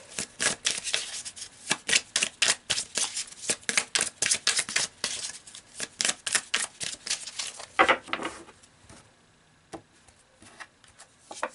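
Tarot cards being shuffled and pulled, a rapid run of crisp riffling snaps and flutters, loud and close, that slows and thins out toward the end with a few last flicks and no talking.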